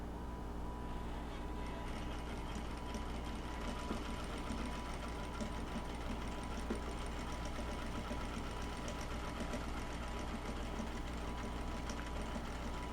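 A sewing machine hums along continuously and fairly quietly while stitching a fabric mask along its curve, an even, close mechanical purr with a steady rapid needle rhythm and no pauses.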